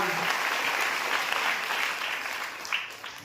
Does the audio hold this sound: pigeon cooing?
no